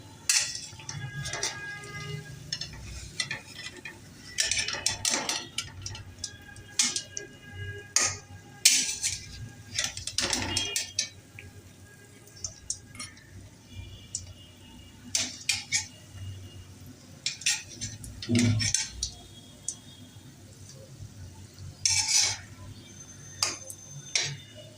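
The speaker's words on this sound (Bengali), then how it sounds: "এখন পিঠাগুলা উল্টে পাল্টে ভেজে নিতে হবে।" Semolina pitha balls frying in hot oil in a wok while being turned, with repeated sharp clinks and scrapes of a utensil against the pan over a low, steady bubbling.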